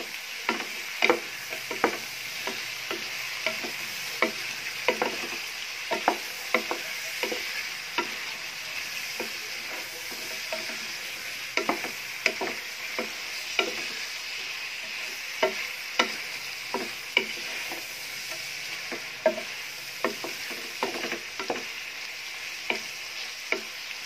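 Buttered shrimp sizzle in a frying pan while a utensil stirs them, giving a steady hiss broken by frequent scraping clicks and taps at an uneven rhythm throughout.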